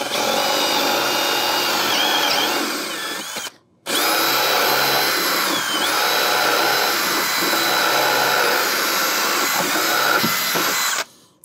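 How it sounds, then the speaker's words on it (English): Power drill cross-drilling a hole through a 2x4 near the middle of the board, a loud whining bore that stops briefly, then resumes for a long continuous run before cutting off. "I'm gonna go ahead and cross drill this first at 2 inches down from the top"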